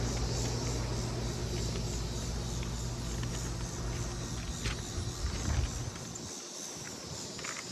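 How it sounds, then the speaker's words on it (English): A tenant's air conditioning unit runs with a steady broadband whoosh over a low droning hum; the hum drops away near the end while the airflow noise continues. "here goes my tenant's AC unit"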